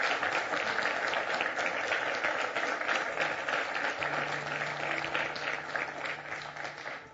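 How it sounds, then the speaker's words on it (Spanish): Sustained applause from a church congregation, a dense even patter of many hands filling the room, with a low steady tone entering partway through as the clapping begins to thin. "Ese aplauso es para Dios, iglesia."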